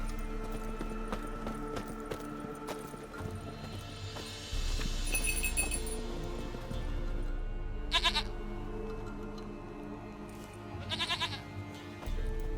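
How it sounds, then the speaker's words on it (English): A goat in The Witcher 3 video game bleats in two short nasal bursts over ambient game music and background hum, with a brief higher tone earlier. "Goat of mine, dearest, sweetest goat."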